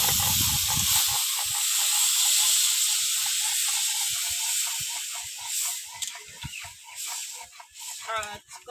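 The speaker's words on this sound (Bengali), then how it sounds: "এবার আমি জল ঢেলে দেব।" Water hits a hot pan of silver carp fish curry base with chilli powder, bursting into a loud hissing sizzle that slowly calms into bubbling crackles, with a voice talking intermittently over it.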